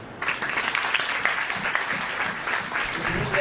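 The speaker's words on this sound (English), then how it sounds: "Can you clap for that?" An audience applauds steadily throughout a spiritual talk, a dense wash of many hands clapping together, moderately loud and continuous without speech on top.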